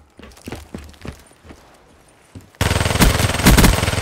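A Vesper submachine gun in Call of Duty Black Ops 3 fires scattered single shots and short bursts, then rips into a loud, rapid sustained burst for the final second and a half.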